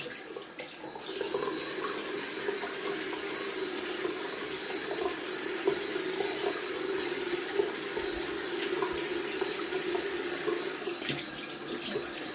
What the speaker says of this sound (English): Okay, new cold water rinse.